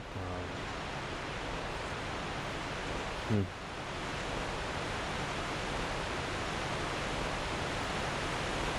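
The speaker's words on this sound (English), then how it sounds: "I apologize for the loud waterfall sound. It's just really loud for some reason." A loud waterfall roars in Huntsman's Copse in Dark Souls 2: Scholar of the First Sin, a dense, constant broadband rush filling the whole stretch, with one brief thud partway through.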